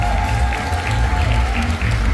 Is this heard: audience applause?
yes